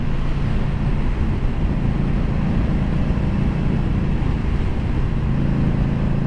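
A motorcycle rides along Route 318 through the Connecticut countryside toward Saville Dam, its engine a steady, close, low drone blended with constant wind rush for the whole stretch.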